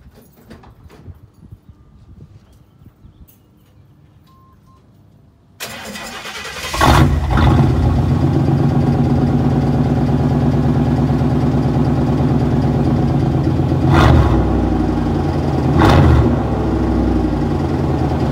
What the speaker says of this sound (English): I'm gonna give you guys a sound clip of how it sounds when I start it up.